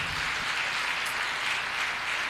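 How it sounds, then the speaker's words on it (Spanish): A church congregation gives a round of welcoming applause for first-time visitors: steady, dense clapping from a crowd, fairly even in loudness across the short stretch, with no talk over it. "¿Qué tal si les brindamos un fuerte aplauso de bienvenida?"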